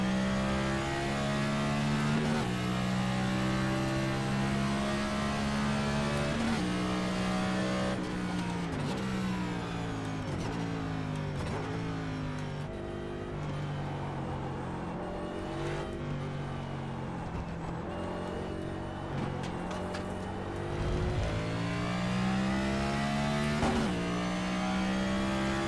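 A race car engine on the Autódromo Hermanos Rodríguez circuit in the iRacing sim racing game roars steadily for the whole lap, its pitch climbing through the gears and dropping sharply on downshifts into corners.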